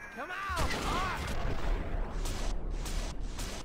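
Rapid bursts of gunfire from Western-style guns in the video game Red Dead Revolver, loud and dense with booming shots over a rumbling backdrop, after some brief whooshing effects at the start.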